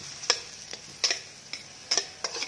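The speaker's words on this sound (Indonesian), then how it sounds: "Tumis sampai wangi dan layu ya." Onion and garlic sauté in a pan, a faint sizzle beneath regular clicking taps of a utensil against the pan, about four or five sharp strikes in quick rhythm, close by.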